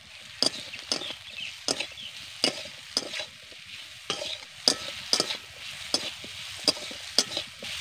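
A spoon stirs fried potatoes coated with turmeric, chili powder and salt in a hot pan, giving sharp periodic scrapes and clinks roughly every half second over a soft sizzle, close up.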